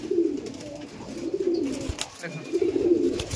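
Madras pigeons in a loft coo in low, rolling bursts close by, with soft rustling and a brief flutter in between.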